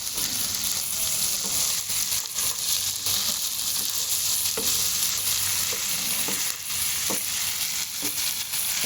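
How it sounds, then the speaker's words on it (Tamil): Intestine (kudal) frying with fat in a pan gives a loud, steady sizzle, broken now and then by faint stirring clicks. "குடலுக்குள்ள வந்து கொழுப்பும் போட்டு தான் வறுக்கிறோம்."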